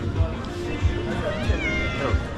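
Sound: cat meowing

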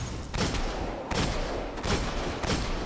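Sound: pistol shots in Destiny video game

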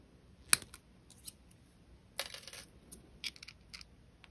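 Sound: snipping jewelry wire

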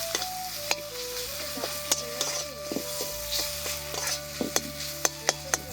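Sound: spice paste frying in pan for palak paneer

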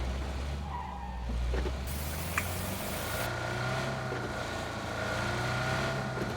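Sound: car driving and skidding in video game PUBG

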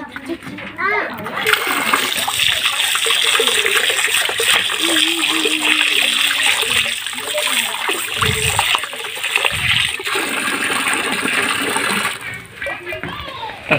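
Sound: washing freshly picked guava with water at a well

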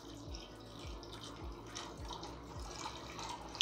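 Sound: pouring hot water from kettle

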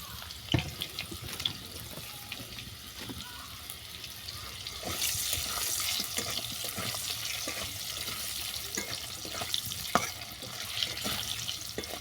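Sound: potatoes frying in a pan

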